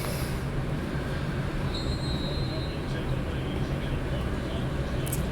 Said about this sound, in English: you are going to be hearing my air conditioning system all day